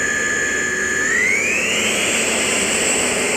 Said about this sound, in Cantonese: 而家架飛機着陸咗謝米亞空軍基地